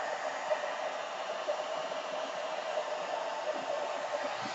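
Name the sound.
hair dryer heating hair protein treatment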